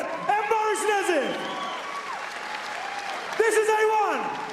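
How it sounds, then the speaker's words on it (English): Crowd applause for two fighters after a kickboxing bout, steady clapping under an announcer's voice speaking over it, with a louder burst near the end. "But a great round of applause for Ian Jacobs and Baris Nezif."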